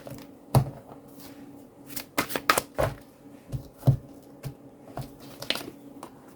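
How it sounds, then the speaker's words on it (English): A deck of tarot cards is shuffled up close, with quick bursts of papery riffling and soft slapping taps coming in uneven clusters and no voices. "A few more shuffles"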